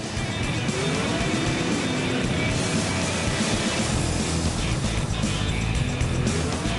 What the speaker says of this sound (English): The tyres are struggling to inch them forward.